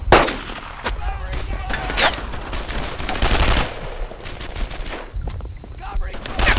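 Repeated gunfire bursts from the WWII shooter game Brothers In Arms: Earned in Blood, sharp cracks and automatic volleys rattling in clusters over a continuous battle din.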